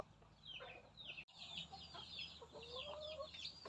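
Egg-laying hens kept on a rural Thai learning-center farm, clucking and calling continuously in overlapping short bursts, moderately close and fairly quiet, with a brief dropout partway through.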